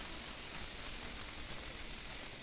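Ginger garlic paste dropped into hot oil with mustard seeds for a spicy chicken gravy sizzles as a steady, loud hiss that holds evenly throughout and eases off briefly at the very end.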